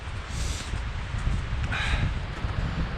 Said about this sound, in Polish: Jedyne co przeszkadza to silny wiatr